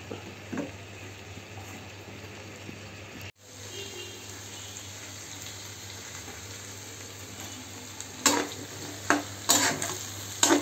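Okra and potato curry sautés in a pan with a constant close sizzle, then a brief break and louder rattling scrapes of a spatula near the end, with no voices.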